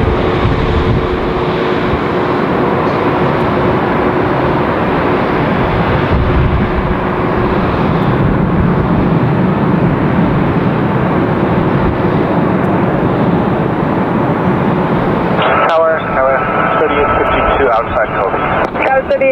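A jet airliner taking off from runway 24 left at Los Angeles International Airport, a loud sustained engine roar that holds steady before shifting near the end.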